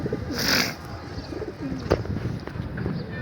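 Pigeons coo on a rooftop in the morning, their soft low calls steady and close, with a brief brighter rustle early on that may be wings.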